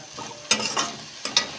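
Drumstick pieces drop into vegetables frying in a pan, bringing a soft steady sizzle broken by a few sharp clatters and scrapes as the pieces land and get stirred, close and without voices.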